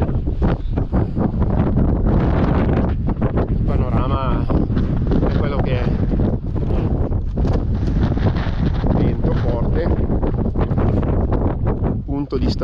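Strong wind buffets the microphone continuously on a high Alpine mountain trail near Col de la Seigne above Courmayeur, loud, roaring and unbroken, with a voice talking faintly beneath it.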